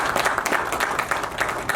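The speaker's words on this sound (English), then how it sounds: "please give her a round of applause" A crowd applauds steadily, dense clapping filling the room without a break, at a political leadership campaign event in Edmonton.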